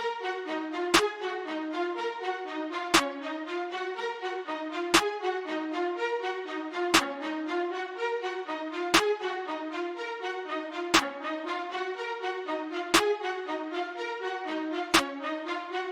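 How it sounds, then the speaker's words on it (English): A steady drum pattern with a sharp layered clap-snare hit on every other beat, on the third beat of each measure, over a busy orchestral melodic loop, loud and regular. "starting off with the drums, we have this clap snare combo, and I layered that with this other snare"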